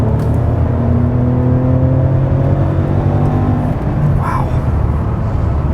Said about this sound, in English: you hear the V12, but you don't really hear it. Like you hear a growl, that's it.